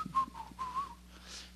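A person whistles alone in a short tune of several clear, sustained notes, rising and falling at close range, as if imitating someone whistling out on a hill.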